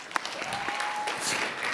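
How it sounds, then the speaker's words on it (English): Audience at a networking event for the cultural and creative industries applauds in a steady, dense wash of clapping throughout, moderately loud and without speech. "Ladies and gentlemen, another round of applause."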